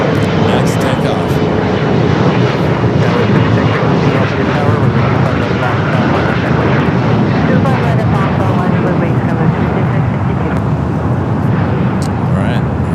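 A Boeing C-40 Clipper taking off at Los Angeles International Airport, its jet engines roaring loudly and steadily for the whole span while radio chatter and a commentator talk over it.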